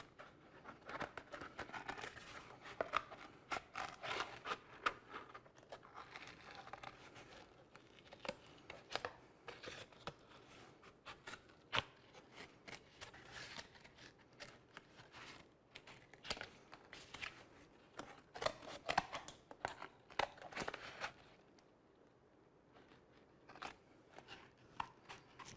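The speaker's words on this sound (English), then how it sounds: "And then just cut the little circles out." Scissors cutting small circles out of cardboard while a rifle scope is prepped for Cerakote: faint, irregular snips and crinkles close by in a quiet room, with no talking.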